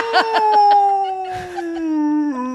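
A voice imitates a dog's low, drawn-out howl, holding one steady sliding tone for about two seconds with a few short yips at the start, close and clear with no other talk.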